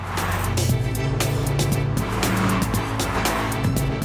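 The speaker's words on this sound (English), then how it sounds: "They're driving the Lotus Exige." A Lotus Exige sports car races around a track, its engine roaring loudly and steadily with gear changes and brief tire squeals, no voices over it.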